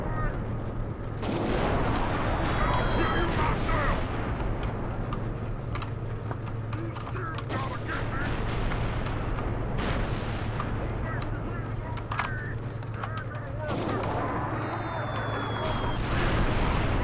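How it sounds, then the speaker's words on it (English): Mortar fire launched by a boss in Oddworld: Stranger's Wrath, with heavy booming shots and impacts layered over a constant low rumble of battle, sustained and loud throughout. "where are the mortar guys shooting from?"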